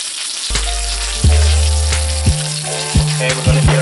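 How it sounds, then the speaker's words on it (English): Asparagus spears fry and sizzle in a hot pan, a steady loud crackle that jumps with each toss and stir, with a few knocks against the metal and no talking. "we're going to get our asparagus nice and popping here"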